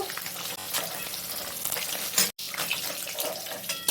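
Fish fry in oil in a pan, a continuous crackling sizzle with stirring and clatter, interrupted by a brief silent gap midway.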